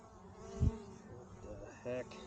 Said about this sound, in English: Quite a bit of bees up here.